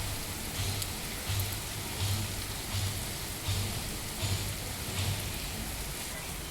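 Heavy evening rain pours steadily and close, a dense constant hiss with faint regular thumps pulsing beneath it.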